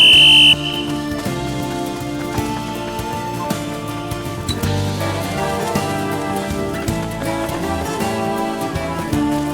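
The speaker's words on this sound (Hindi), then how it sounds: "अभी थोड़ी देर में सीटी बजाऊंगा" A whistle gives one short, shrill blast at the very start during a surprise marriage proposal in a neighborhood street. Music plays steadily underneath and carries on alone after the blast.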